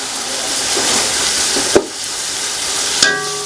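Ginger fries in a pan while biryani is cooked on a rooftop: a loud, steady hiss of oil with one or two sharp utensil knocks and a scrape, and no one talking.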